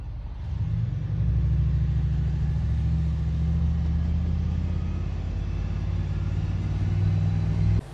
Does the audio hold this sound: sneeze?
no